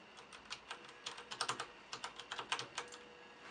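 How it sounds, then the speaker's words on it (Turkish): Keys clatter on a Logitech G710+ mechanical keyboard, a close, fairly soft run of irregular keystrokes in quick bursts with short pauses and no talking. "Mouse'a basmadan bir de sadece klavyenin sesini duyalım."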